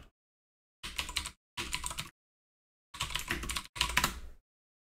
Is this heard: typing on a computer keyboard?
yes